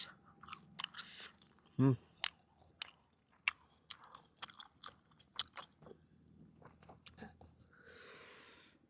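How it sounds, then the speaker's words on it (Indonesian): Fried cireng tapioca snack being chewed up close in a pine forest garden, crunchy bites and moist squishy mastication in an irregular rhythm, with a brief hum partway through and a soft rustle at the end. "Jadi pas kita ngunyah ada nuansa-nuansa perlawanan di lidah."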